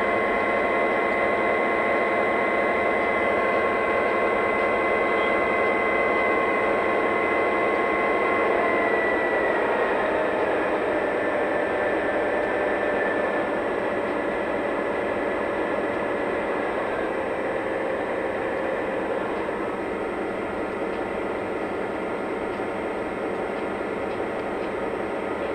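A Lionel Union Pacific Dash 9 model diesel locomotive in Southern Pacific patch livery settles from a higher rev back to a low, steady idle, its sound module giving a continuous droning hum with slowly falling tones, close and fairly loud.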